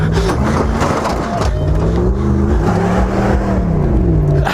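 A Ford Ranger pickup's engine revs hard and loud from close by, with its pitch rising and falling over a rough, gritty roar as one wheel spins.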